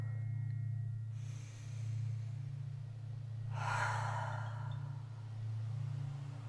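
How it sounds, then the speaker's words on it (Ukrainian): Slow, deep breaths during a guided meditation: a soft inhale followed later by a longer, breathier exhale, faint over a steady low hum. "зробіть глибокий вдих і повільний видих"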